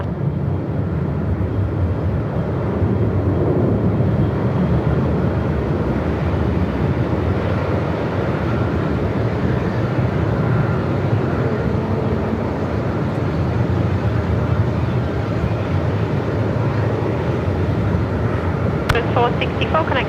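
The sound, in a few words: aircraft departing Melbourne Airport in strong wind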